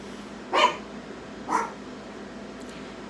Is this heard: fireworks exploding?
no